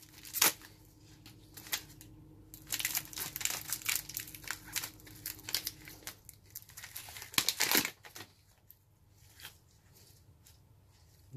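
An Israeli field bandage wrapper is torn open and handled, producing bursts of crinkling and ripping packaging noise up close, with quieter gaps between.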